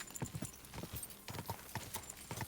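A horse is ridden in Kingdom Come: Deliverance 2, its hooves clip-clopping in a steady walking rhythm, close and moderately loud, with no voices over it.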